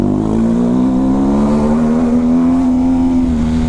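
A car with a loud, deep exhaust revs steadily and close, its rumble holding a sustained droning note with a slight rise in pitch over a few seconds before easing back.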